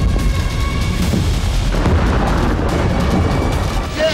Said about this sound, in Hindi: दूसरा धमाका